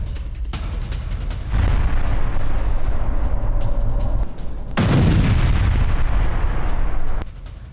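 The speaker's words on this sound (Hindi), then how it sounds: "आईडीएफ हमलों से बेतलाहिया जो है वो दहल गया है। धमाकों से उड़ा हमास का टनल नेटवर्क" Explosions from Israeli military strikes on Beit Lahia, Gaza, two long heavy booming roars, each sustained for a few seconds with deep rumbling, loud and close, with no talk.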